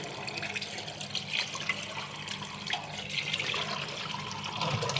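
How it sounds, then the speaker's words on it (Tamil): Tap water runs steadily into a sink while mutton is washed, a continuous splashing hiss, close and fairly loud with no speech. "டேப்பை திறந்து விட்டேன்னா நல்லா க்ளீன் ஆகிரும் உங்களுக்கு"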